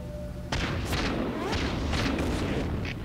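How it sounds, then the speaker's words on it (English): In World of Tanks on Xbox One, artillery fire lands as a loud sudden boom followed by rumbling impacts and a few more sharp blasts close by, with no talk. "Artillery fire, take cover!"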